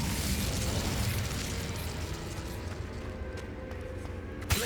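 Incendio fire spell cast in Hogwarts Legacy, a steady roaring burst of flame and crackle filling the whole stretch, with a sharp pop near the end and no talking.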